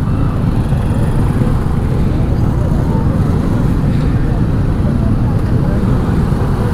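A loud, unbroken roar of heavy road traffic with cars and bikes, engines and tyres droning continuously, close by, on the way to Nandi Hills near Bangalore.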